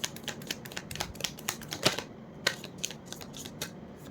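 Tarot cards being shuffled give quiet, rapid papery taps and flicks in an uneven rhythm, close by, with no talking.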